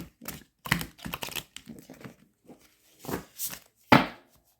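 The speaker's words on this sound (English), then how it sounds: "So I may have to shuffle the other way." A very large tarot card deck being shuffled by hand, close crisp riffling and slapping bursts in short uneven runs separated by brief pauses, with no talk.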